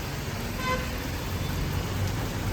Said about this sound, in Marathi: आता पाऊस पडतोय